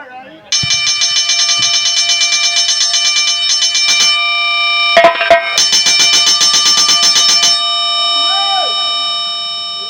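A bell rings in rapid repeated strokes, loud and sustained for several seconds, with a brief pause and a clatter before it resumes, then a faint voice.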